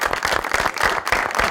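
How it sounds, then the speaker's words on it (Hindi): Studio audience applause at a Pakistani TV comedy show, a steady wash of many hands clapping close and loud for an arriving guest, with no talk over it. "बहुत सारी तालियों में वेलकम कीजिएगा जी।"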